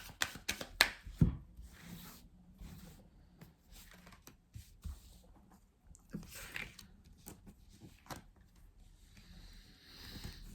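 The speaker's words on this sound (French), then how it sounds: "On va prendre 3 cartes du tarot persan de Madame Indira." Persian tarot cards shuffled and drawn by hand, a close run of soft irregular riffles, slides and taps on a table, fairly faint, with no talking.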